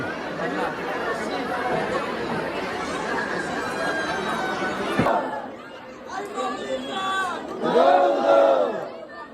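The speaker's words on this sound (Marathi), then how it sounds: "भन्नाट गर्दी" A large, noisy crowd at a bullock cart race, a dense wash of many overlapping voices and chatter nearby, with shouts and a few loud calls rising near the end.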